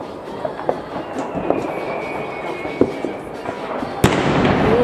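Scattered New Year's Eve fireworks crack and boom at varying distances, with a sharp close blast near the end followed by a crackling rush.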